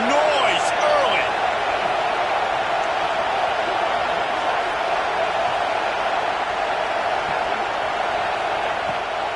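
Stadium crowd at a football game, a loud, steady roar of many voices with a sharp whoop or whistle near the start, continuous throughout.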